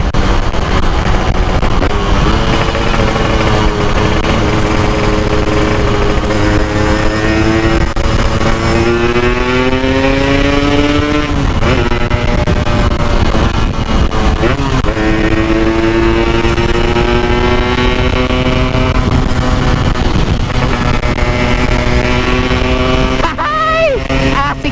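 Yamaha RX Special 115 cc two-stroke motorcycle revving and pulling through the gears on a test ride, a loud continuous engine drone whose pitch climbs and drops with each shift, wind rushing throughout.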